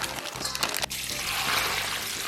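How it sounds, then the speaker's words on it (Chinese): Clean water pours into a basin holding bok choy, enoki mushrooms, shiitake and bean sprouts, a steady splashing gush close by. "然后倒点清水，咱们给它清洗一下"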